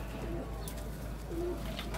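Pigeons coo softly in short low murmurs, two brief calls against a steady background hum, with no talking.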